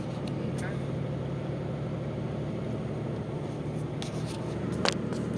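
A car that needs a wheel alignment after a snow-day wreck rolls slowly over icy roads, giving a faint, steady engine and road rumble under people talking.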